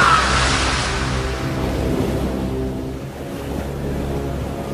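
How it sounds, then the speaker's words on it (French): Rough, stormy sea waves crash and surge continuously, a loud, steady wash of surf and wind with a deep rumbling undertone and a brief splash at the start, as a man is thrown into the tumultuous water. "les marins jetèrent Jonas dans l'eau tumultueuse"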